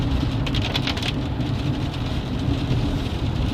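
Heavy rain falling outside while riding in a vehicle, a dense, continuous wash of rain noise mixed with road and engine rumble, loud and steady throughout.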